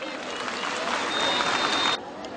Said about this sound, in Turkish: Sizleri canı gönülden alkışlıyorum